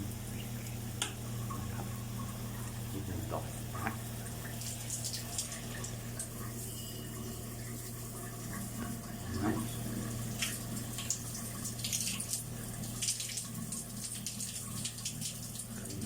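Tap water runs steadily into a Panasonic electric water heater being tested after repair, a constant close hiss and rush with faint ticking over a low mains hum, lasting throughout with no voices.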